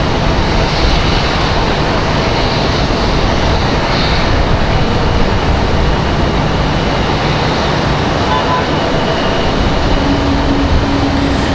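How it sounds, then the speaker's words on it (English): A Boeing 757 jet preparing for departure at Raleigh-Durham International Airport, heard as a steady, loud broadband engine roar that holds constant throughout without talk. "757 getting ready for their departure"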